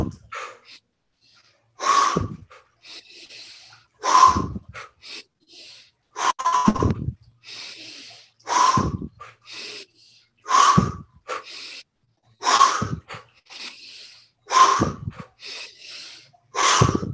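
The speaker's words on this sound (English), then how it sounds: "here we go with the breathing. We're doing 20 cycles." Guided breathwork session of twenty cycles: sharp, forceful breaths repeat in a steady rhythm about every two seconds, each a loud gusty burst followed by quieter breathing, close to the microphone.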